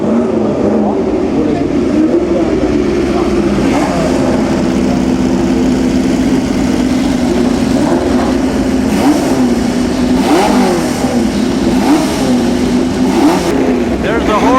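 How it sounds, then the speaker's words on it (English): Historic racing car engines rev loudly at the Monaco Grand Prix Historique, a steady powerful drone with repeated throttle blips and rising surges, crowd murmur and talk faintly underneath. "That powerful engine."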